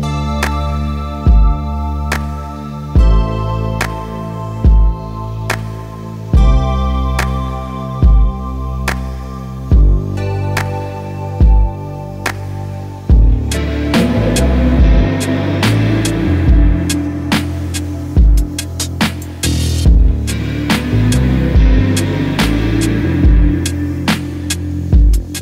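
An electronic tune made by a music producer plays loudly with a regular thumping beat under sustained tones, growing denser and busier in the second half, with no voices.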